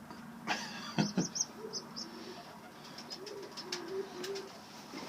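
Pigeons coo in a small breeding coop holding three pairs of Portuguese birds, soft repeated coos and a few faint chirps rising from low background hum, close and fairly quiet.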